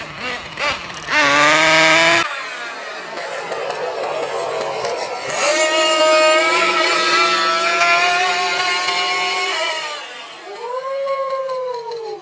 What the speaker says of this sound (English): See, the wheels are just spinning.